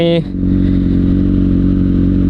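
A Kawasaki Ninja ZX-6R motorcycle engine drones loudly and steadily at constant revs after a brief shift in pitch, close and continuous throughout.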